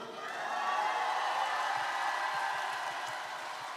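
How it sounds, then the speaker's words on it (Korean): Audience applause in a hall at a party national convention, a broad steady wash of clapping swelling in and holding, distant and diffuse. "박수 한번 쳐주세요"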